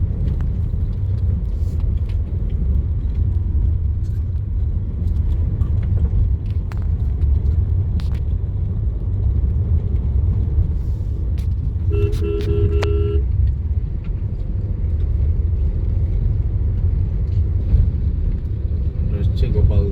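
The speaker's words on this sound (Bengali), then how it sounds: "গোপালধারা টি স্টেজের বাস ধরে যাচ্ছি।" A bus runs along a wet North Bengal hill road toward Gopaldhara Tea Estate after two days of storms. Its engine rumbles low and steady throughout, with a short burst of beeping tones partway through and faint voices in the cabin.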